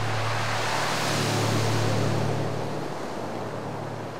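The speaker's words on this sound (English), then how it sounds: "you see the waves pounding in" Waves pound onto the shingle of Chesil Beach at Portland in a steady, loud, broadband roar of surf, with wind buffeting underneath and no voices.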